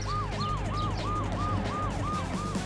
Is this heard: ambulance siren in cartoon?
yes